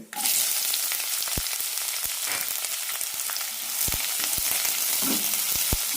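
Long-sliced onion frying in hot oil with cinnamon and cloves, a loud continuous sizzle with occasional soft knocks of a spatula, no voices.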